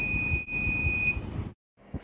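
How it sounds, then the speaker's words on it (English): The receiver of a LoRa women's safety device sounds its alert buzzer, a steady high-pitched electronic tone that holds for about a second before stopping, with low handling noise underneath. "along with the buzzer sound like this."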